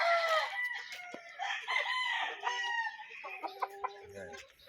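Several young roosters crow in overlapping, ragged calls at fairly close range, with a few clucks near the end and faint voices in the background.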